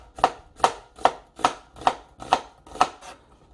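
A kitchen knife chops ingredients for steamed pork kimchi on a cutting board, eight crisp, evenly spaced cuts at a slow, regular pace, close and clear in a quiet room.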